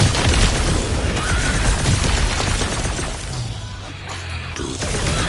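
An explosion booms in the Guardians of the Galaxy video game, a loud burst of crashing, shattering debris that fades into a lower rumble before another surge of noise near the end.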